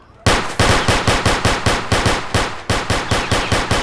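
Rapid gunfire bursts out loud and close, about fourteen shots in quick succession with a brief break near the middle before the firing resumes. No voices are heard.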